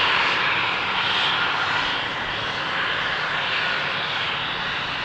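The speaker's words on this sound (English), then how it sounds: "This is an Embraer 190 outbound to Berlin, 9 years old" Embraer 190 jet departing Amsterdam Schiphol Airport on runway 36L, a steady broadband engine roar that holds loud and even throughout, with no voices over it.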